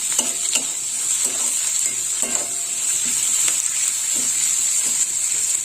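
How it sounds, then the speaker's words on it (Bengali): Chopped onion frying with salt in oil in a pan, a steady bright sizzle with a regular rhythm of stirring scrapes and taps, close by and moderately loud, with no talking. "একটু লবণ দিয়ে দেবো পেঁয়াজে তাহলে পেঁয়াজটা একটু নরম হয়ে যাবে"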